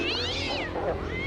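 A cartoon kitten meows in a high, wavering cry that rises and falls, loud and close, filling the short moment with no talk over it.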